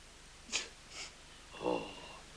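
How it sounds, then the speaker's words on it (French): Two quick, sharp sniffs followed by a longer, wetter snuffling breath, all fairly quiet and close in an indoor scene from a French comedy series. "Oh, mais cessez de renifler comme ça."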